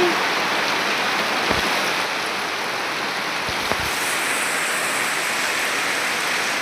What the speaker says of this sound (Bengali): সেই লেভেলের লাগিয়ে দিয়েছে বৃষ্টি মাইরি